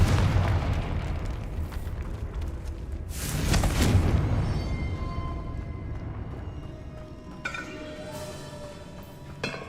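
A Confringo blasting spell goes off in a Harry Potter parody game, a broad booming burst with a rumbling tail that swells around the middle of the stretch, followed by scattered clinking debris and quieter game ambience.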